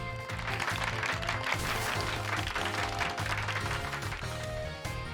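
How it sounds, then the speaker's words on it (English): Sustained applause and cheering in the video game Pokémon Scarlet fill the clip, layered over steady background music with a repeating low pulse. "Give Pikachu a round of applause, everyone."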